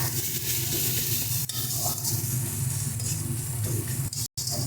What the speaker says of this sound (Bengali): এবার দিয়ে দেবো কেটে রাখা পেঁয়াজটা